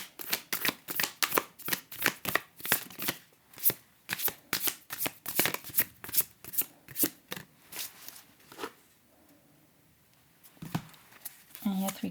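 A tarot deck shuffled by hand in a close, quiet room: a rapid series of crisp riffling bursts, dense and rhythmic for most of the stretch, then tapering off into a few scattered card sounds.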